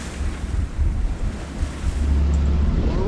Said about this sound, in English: the ocean waves started washing in